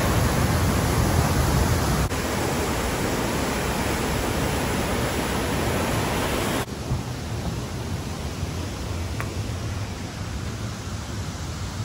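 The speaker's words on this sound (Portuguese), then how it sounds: "Tem uma força essa água" A strong river rushes with forceful, steady broadband water noise, loud and continuous throughout, with a slight drop in level partway through and no talk over it.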